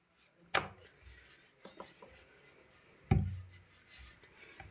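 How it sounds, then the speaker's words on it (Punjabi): Aloo pyaz paratha dough rolled out with a rolling pin, soft rubbing and scraping strokes punctuated by two sharp wooden knocks, close and quiet. "ਹੁਣ ਆਪਾਂ ਇਹਨੂੰ ਇਦਾਂ ਵੇਲ ਲਾਂਗੇ"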